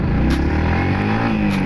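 Yamaha MT-15 V2.0 motorcycle engine pulling hard in first gear, a loud, steady close-up drone with rising harmonic tones as revs climb, no talk over it.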